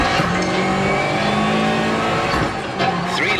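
A Lancia Delta HF integrale rally car in Assetto Corsa on the Rallye de France-Alsace stage roars loudly and continuously, engine revving with gear changes and a brief tire squeal near the end.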